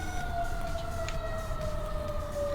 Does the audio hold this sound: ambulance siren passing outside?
yes